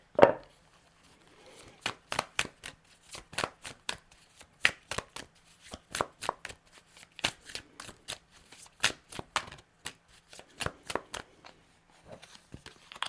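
A new Keywords Oracle card deck being shuffled by hand, a run of crisp, rapid riffling card flicks in quick bursts, close and fairly loud, with no talking.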